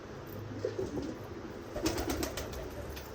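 A Golden Teddy pigeon gives a couple of soft, throaty coos, close by and quiet, in two short bursts with a steady low background.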